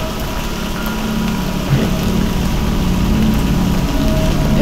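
Steady rain in the horror game Bunker 16 pattering without a break, a dense broadband hiss with a low rumble underneath, slightly louder toward the end.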